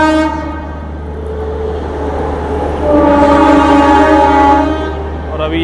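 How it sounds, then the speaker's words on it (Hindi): Passenger train pulling into Dahod railway station at night, a loud sustained multi-tone train horn over a low engine rumble that swells midway and then fades. "अभी अपनी ट्रेन पहुंच चुकी है दाहोद"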